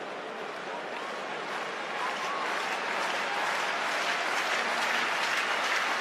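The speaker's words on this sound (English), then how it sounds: "Crowd as animated as they've been at any stage during the evening." A football stadium crowd at the Sweden versus England friendly sends up a loud, sustained roar of cheering and applause ahead of a free kick, steady throughout and swelling slightly toward the end.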